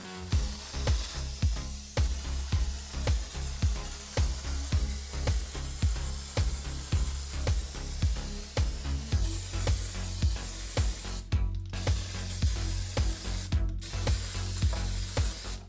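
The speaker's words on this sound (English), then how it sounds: "To make these even more bulletproof, I also sprayed them with a coat of matte varnish." Close, hissing bursts come from a spray can of matte varnish aimed at tabletop terrain pieces, repeating in an uneven rhythm with clicking, rattling sounds between sprays and a couple of brief gaps near the end.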